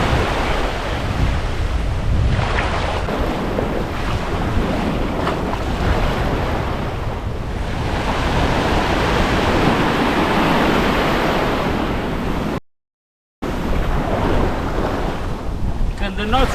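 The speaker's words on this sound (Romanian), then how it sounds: "Azi se pare că sunt valuri." Ocean waves roll in at a beach in Guraidhoo, Maldives, a loud, continuous wash of surf mixed with wind buffeting the microphone, broken briefly by a short dropout of silence near the end.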